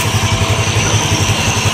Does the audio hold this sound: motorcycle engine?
yes